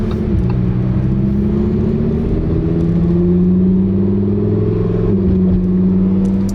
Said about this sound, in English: They're revving the cars behind me.